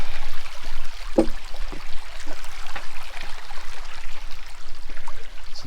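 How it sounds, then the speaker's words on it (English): A small stream at a water crossing on the Lizard Rock hiking trail in Wildwood Park, Thousand Oaks, California, trickles and babbles continuously nearby, with soft scattered splashes and no talking. "we got a little water crossing there too"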